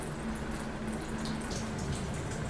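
Water runs steadily from a single cold-water bathtub faucet, a constant close hiss with faint splashing and no voices over it.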